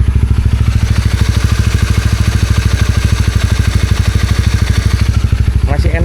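A loaded touring motorcycle on a solo ride in Sabah, Malaysia runs with a steady, rapid thumping engine pulse, close and loud, holding even throughout with a brief extra noise near the end.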